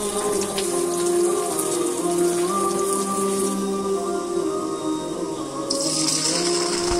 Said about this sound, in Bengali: তেল গরম হলে পেঁয়াজটা ঢেলে নাড়তে থাকি।